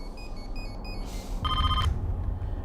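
A telephone rings unanswered in a film scene about a royal palace, giving a short electronic trill over a steady low background hum, with no speech.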